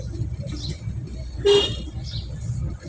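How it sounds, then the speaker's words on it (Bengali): One short car horn toot sounds during a driving lesson, a brief clear blast over low road and engine noise inside the car. "ছোট করে হর্ন দিয়েছেন"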